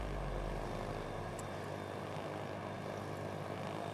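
Propeller torpedo bombers launched from the U.S. aircraft carrier Hornet in a naval combat video game give a steady, quiet, droning engine hum that holds even throughout.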